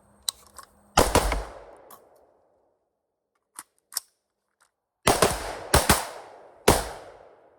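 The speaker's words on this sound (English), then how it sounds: "right now I'm really enjoying this rifle. It's a smooth shooter." A PSA URGI rifle fires several sharp, close shots: one near the start, then a few fainter clicks, then a rapid cluster of three to four loud reports toward the end, each with a short decaying tail.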